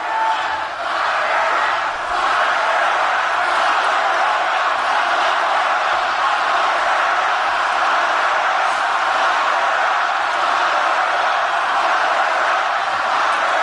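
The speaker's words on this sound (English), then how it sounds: "There's a huge crowd at this thing, too, folks." Huge crowd at a political rally, a loud, dense, continuous roar of many voices and shouting, steady throughout with no breaks.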